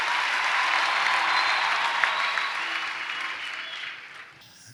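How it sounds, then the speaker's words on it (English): An audience at a youth conference couples session claps together in a thick, steady roar of applause that gradually thins and fades toward the end. "Let's clap our hands for our sister"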